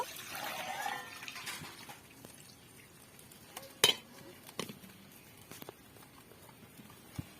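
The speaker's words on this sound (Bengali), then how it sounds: "দুধটা কড়ার মধ্যে দিয়ে দেব" Milk is poured into a kadai set on a lit stove: a soft liquid rush in the first second or so, followed by scattered metallic clinks and taps of the pan, fairly quiet and with no talking.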